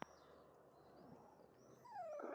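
A young puppy gives a few short, high yips and whimpers near the end, close and fairly faint after a quiet stretch of soft rustling.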